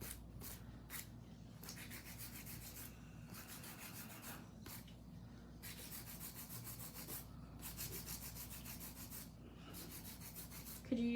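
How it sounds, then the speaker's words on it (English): An electric nail drill filing acrylic nails near the cuticle makes a soft, steady grinding rub, broken by short pauses and repeated passes, faint and close with no voices. "So now when I go through the drill, I'm only worried about the cuticle area"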